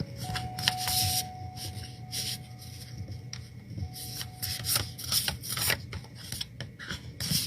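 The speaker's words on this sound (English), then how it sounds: "Just shuffling the cards." Oracle cards are shuffled repeatedly at close range, a series of quick riffling bursts and soft rubbing sounds with no talking.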